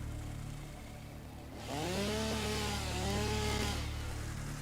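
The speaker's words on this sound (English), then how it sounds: "I think the chainsaw sound changed a little bit." A chainsaw in a video game runs with a buzzing, harmonic engine whine. It swells in about halfway through, holds steady for roughly two seconds, then drops back under a constant low game ambience, with no talk.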